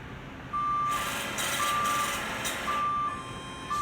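A Steris sterilizer alarm beeps in long, steady tones, three sustained pulses with short gaps, loud and close over a broadband hiss of machine noise.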